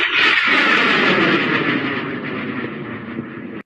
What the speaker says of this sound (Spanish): Y por acá podemos ver un lanzamiento.